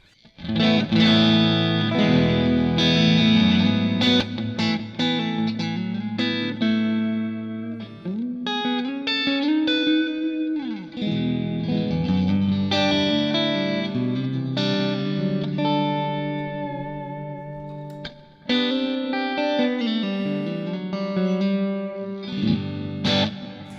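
Distorted electric guitar through an HX One amp profile with a 12AX7 setting, playing sustained chords and riffs with a warm amp tone and some chorus shimmer, loud and continuous for about twenty seconds.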